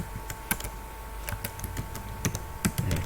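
Steady typing on a computer keyboard while Python code for a calculator program is entered, with close, crisp key clicks in an uneven rhythm and the occasional heavier keystroke.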